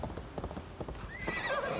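Horse galloping in Assassin's Creed Valhalla, rhythmic close hoofbeats thudding along before the horse lets out a loud whinny at the end.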